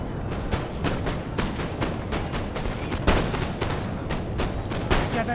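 Musket volleys from the video game Napoleon Total War crack out in a dense, continuous barrage of overlapping shots over a steady roar of battle, loud and without pause.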